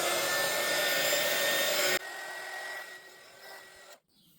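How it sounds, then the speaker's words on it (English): A heat gun blows loudly and steadily over epoxy resin in silicone crystal-point molds, then drops to a softer lower setting before cutting off into near silence. "I got the heat gun, I might pop it."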